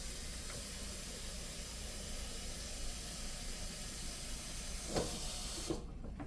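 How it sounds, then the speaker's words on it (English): Six cups of water pour steadily into a pot for New Mexico red chile with chuck roast, a soft continuous hiss that runs for several seconds before cutting off near the end. "now I'm going to put the water"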